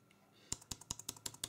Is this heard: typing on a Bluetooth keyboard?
yes